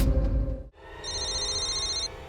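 A telephone rings in a tense crime-drama scene, a steady electronic ring tone sounding continuously for over a second after a brief pause, loud and close with no talk over it.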